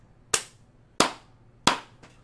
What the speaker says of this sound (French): Fait qu'on les applaudit.